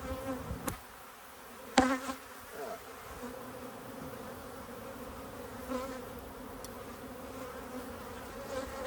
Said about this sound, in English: Millions of screaming bees want to kill me but don't know how